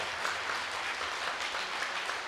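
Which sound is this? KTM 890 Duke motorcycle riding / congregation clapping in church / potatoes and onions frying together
congregation clapping in church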